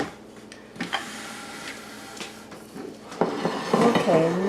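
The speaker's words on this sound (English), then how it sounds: "I'm going to put my mixer out of the way so you can see." A kitchen mixer gets shifted aside on a counter, with soft knocks and clinks followed by a louder scrape and rattle of the appliance and its bowl near the end.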